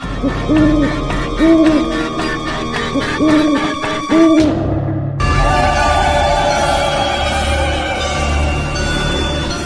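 An owl hoots in a repeated rhythmic pattern of low calls, loud and close, followed by a horse's neigh-like cry and a sudden burst of bright, dense sound after a brief sweep.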